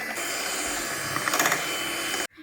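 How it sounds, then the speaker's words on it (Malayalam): Electric hand mixer whipping one and a half cups of whipping cream at low speed then higher, a steady close motor whir filling the clip and cutting off abruptly near the end. "ആദ്യം ലോ സ്പീഡിലിട്ട് ബീറ്റ് ചെയ്ത് പിന്നീട് ഹൈ സ്പീഡിലോട്ടാക്കാം"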